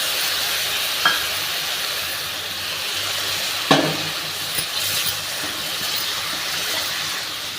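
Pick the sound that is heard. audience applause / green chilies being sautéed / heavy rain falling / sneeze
green chilies being sautéed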